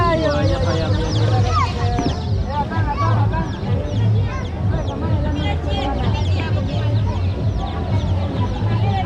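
Colorful chickens cluck and chatter continuously in a crowded, noisy setting, with voices murmuring faintly in the background.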